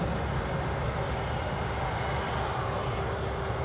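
Broad, steady roar of a jet aircraft taxiing on the runway at Edinburgh Airport, a continuous distant engine drone with no break.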